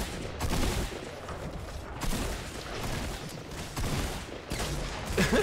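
Heavy AR assault rifle fire in Fortnite, sustained dense bursts of loud, close gunfire rattling almost continuously with brief gaps, amid battle noise.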